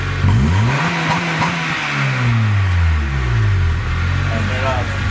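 A Honda Civic EP3 with a Spoon Sports N1 axleback exhaust revs up and down close by, its engine note rising and falling in smooth sweeps, fairly mellow rather than loud, with voices nearby.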